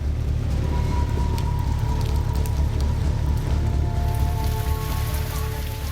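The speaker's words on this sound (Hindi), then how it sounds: "ऐसी मूसलाधार बारिश हुई है कि पूरा शहर समंदर बन गया है।" Torrential rain pours steadily over flooded streets in Lucknow, a dense, continuous hiss and patter of heavy downpour hitting water and surfaces, loud and unbroken throughout.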